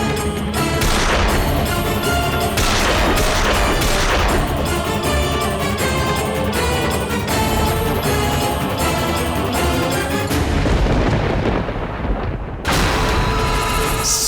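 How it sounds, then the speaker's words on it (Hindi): Firecrackers burst in a dense, relentless barrage of loud booms and cracks, overlapping with no pause for several seconds before a brief drop and renewed blasts, very loud and close. "ये पटाखा काहे बजा रहे हैं"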